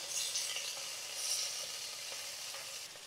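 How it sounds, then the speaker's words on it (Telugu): Mint and coriander leaves for a mushroom biryani fry in hot oil with a soft, continuous sizzle and hiss, faint and close, with no talking. "ఇవి కొద్దిసేపు బాగా వేగనిద్దాం."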